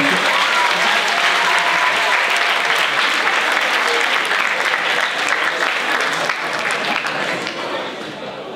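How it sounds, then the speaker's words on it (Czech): Loud, dense audience applause fills a school TV-show competition event, sustained clapping from a large crowd that tapers slightly toward the end. "Poprosím ještě jednou o potlesk a mohou slávy."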